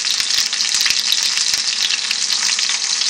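Pork sizzling and frying in a hot pan over medium-high heat for lettuce wraps, a loud, steady crackle of sizzle with occasional stirring clicks, close and continuous with no talking.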